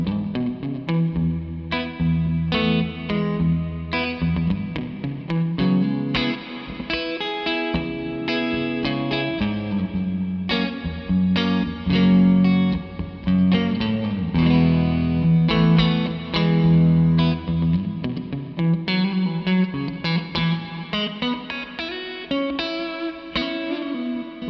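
Electric guitar played through the plate reverb setting of a TC Electronic Hall of Fame 2 pedal, a continuous run of notes and chords with a smooth, dense wash of reverb tail, loud and close with no talk.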